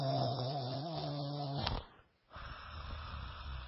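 A man imitates the snoring of a man in the next bed, a long rasping, throaty snore at close range that breaks off abruptly, followed by a brief quiet gap and then softer breathy noise.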